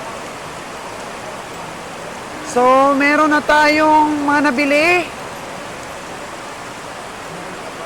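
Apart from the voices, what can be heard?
rain falling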